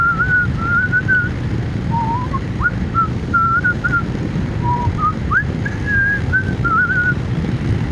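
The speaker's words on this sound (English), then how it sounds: "Oh, obnoxious whistling!" Someone whistles a wandering tune, loud and near, over a constant low rumble like an engine or wind.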